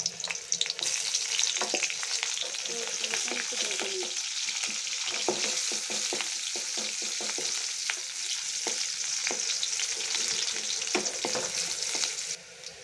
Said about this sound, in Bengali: তেল গরম হয়ে গেলে অল্প একটু পেঁয়াজ ছেড়ে দিন।